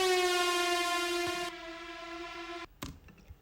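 A main riser effect from a drum and bass track plays as a bright, sustained harmonic tone that drops away halfway through and then cuts out, leaving a few soft percussive hits.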